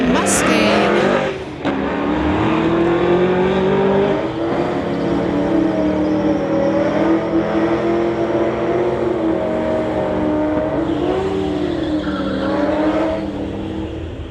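A 2004 Ram truck drag racing an old Mustang at a street-legal drag event, engines droning loud and steady with rising and falling revs throughout, under a continuous announcer-style voice.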